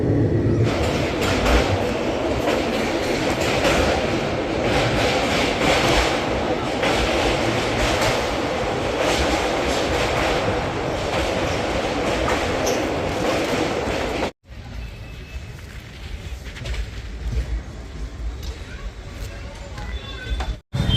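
Train running on an Indian rail journey, heard from inside the carriage: a steady loud rumble with rhythmic wheel clatter, briefly cut off, then resuming slightly quieter with a voice talking over it.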